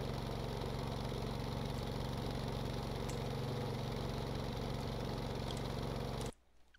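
A helicopter engine and tail rotor in the Stormworks game run with a steady, fast mechanical chatter, constant and close, then cut off abruptly near the end.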